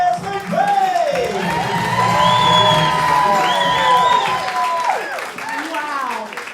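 A live comedy-show audience applauds and whoops for the host, a sustained wash of clapping with rising cheers and drawn-out shouted whoops, loud and close throughout.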